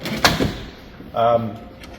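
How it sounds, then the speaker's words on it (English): A fridge on a travel slide in a Toyota Prado LC250 is pulled out: a sharp click, then a short, fairly loud metallic sliding rumble, heard close up. "travel lock there, then you're able to pull the complete fridge out"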